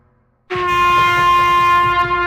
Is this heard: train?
yes